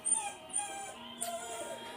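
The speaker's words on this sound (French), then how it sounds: "ce chien là, qui pleure tout le temps" A dog whines in short, high, thin whimpers, a few brief cries over about two seconds, fairly faint and close with a soft background hum.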